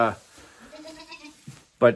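Goats bleating inside a barn housing a large herd, a couple of close calls at the start and end with quieter bleats in between.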